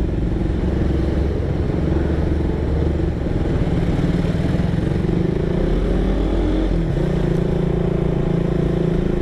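A carbureted Suzuki Raider 150 motorcycle engine hums and revs steadily amid surrounding traffic, with a constant low rumble and some rattling clatter, no talking.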